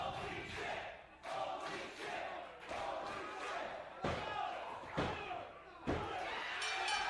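A wrestling crowd roars steadily while bodies slam onto the ring mat several times, with loud sharp thuds punctuating the cheering and shouting at an independent wrestling show.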